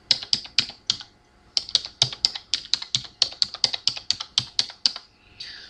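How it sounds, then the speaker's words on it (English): Fingers type steadily on a computer keyboard, close and crisp, in quick bursts of keystrokes with a brief pause near the one-second mark, then a continuous run of even taps. "Then you can start typing."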